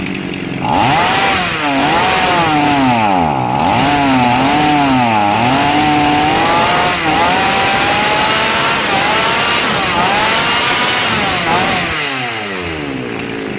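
A chainsaw engine runs loud and close during carburetor L and H screw adjustment, its revs sweeping up and down repeatedly in wavering surges before settling, with no talking.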